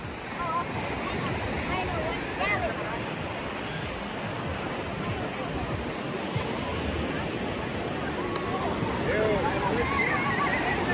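Surf washing onto a crowded beach at dusk, a steady loud roar of breaking waves with the murmur of many distant voices mixed into the wash.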